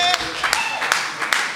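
A church congregation applauding and acclaiming during a French-language sermon, with rhythmic clapping in steady beats and voices calling out over it.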